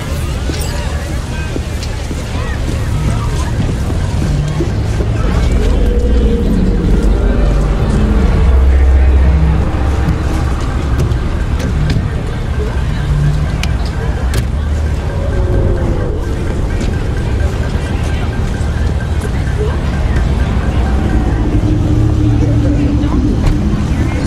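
A car engine drones steadily while driving in the video game Cyberpunk 2077, a low rumble with wind-like road noise running throughout, as voices talk over it.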